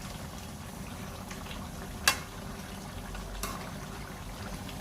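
Adobo simmering in a pot, a soft steady bubbling hiss that holds quietly throughout, with one sharp click partway through.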